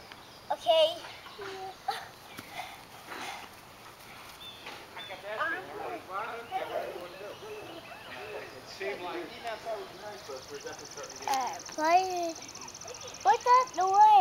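A chicken clucks intermittently outdoors on a property with puppies around. Short, scattered clucks rise over the background while children and an adult talk nearby.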